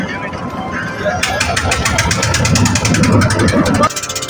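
A trawler boat's engine cranks and catches, then runs with a loud, rapid, knocking chug while voices talk around it.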